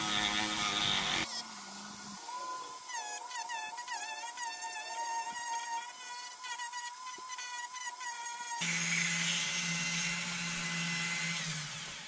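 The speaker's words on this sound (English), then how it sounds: "I'll do that with a drum sander here" A Dremel drum sander whines steadily at high speed while sanding a wood carving of a white crappie fish, with grinding contact in the middle and louder free-spinning bursts at the start and end.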